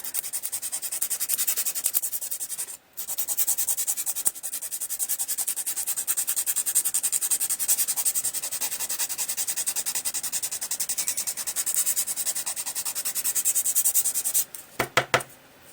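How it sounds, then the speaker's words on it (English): Coarse nail file rasped rapidly back and forth over the top of an acrylic-style nail extension, a loud, continuous close-up scratching that stops briefly near three seconds and ends with a few separate strokes. "still with my coarse nail file here, I'm just going to buff along the top."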